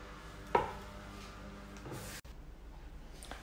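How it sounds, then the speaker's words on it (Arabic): Soft dough for chocolate donuts is cut with a cutter: a sharp tap on the work surface, then a muffled pressing thud and a scrape, close and quiet in a kitchen. "طبعا نبداو نقطع"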